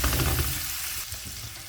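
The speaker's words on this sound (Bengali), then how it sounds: "আমি পেঁয়াজটা একটু ভেজে নিছি আর আদা বাটা দিব আর রসুন বাটা দিয়ে দিব" Onions frying with green chilies, ginger paste and garlic paste, a steady loud sizzle close up, dense and continuous, no voices.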